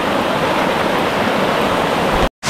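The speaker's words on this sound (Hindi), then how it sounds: "ये देखें घना जंगल और ये बीच में चश्मा चल रहा है और ये पीने वाला पानी है साफ।" A clear mountain stream flows through dense forest on Trail 5 in Islamabad, a steady close rushing wash of water that cuts off abruptly near the end.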